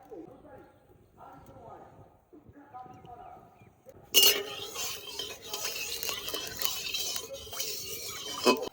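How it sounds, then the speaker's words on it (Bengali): Mustard oil poured into a hot wok for frying pomfret in a village kitchen bursts into a loud, steady sizzle partway through. Before that, quiet voices talk, and light clinks of utensils follow. "কড়াই গরম হয়ে গেছে এবার সর্ষের তেল দিয়ে দেবো"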